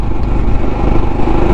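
A Jawa Bobber 42 motorcycle engine accelerates with a light twist of the throttle, giving a loud, close, low, throbbing rumble that holds steady through a short burst.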